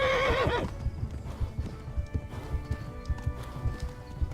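In the video game Kingdom Come: Deliverance, a horse whinnies loudly at the start, then hooves clip-clop in a quick, steady galloping rhythm.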